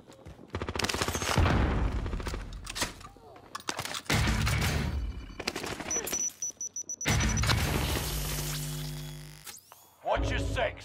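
Enemy gunfire in Call of Duty: Modern Warfare, with dense bursts of rapid shots and heavy booms in several loud waves, mixed with game voice lines and a shouting player.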